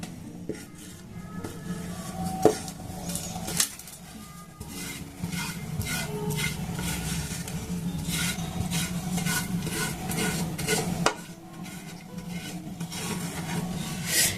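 A sesame and jaggery mixture is poured and spread to set, making close, continuous rasping and scraping of a utensil against the surface, with a few sharp knocks along the way.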